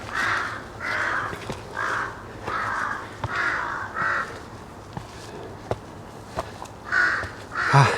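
Crows calling in a forest park, repeated harsh caws in irregular bursts with short pauses, near and clear, with faint scattered crackles like footsteps on the forest floor between calls.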